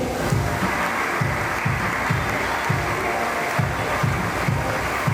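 An audience at a school felicitation day claps steadily, a continuous crowd of hands with a regular pulsing beat underneath, as if clapping in time, moderately loud throughout.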